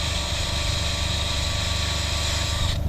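A power drill set to very low torque whirs steadily and continuously at close range while plastic car trim on a Rover 75 is being restored, stopping abruptly at the end; no speech.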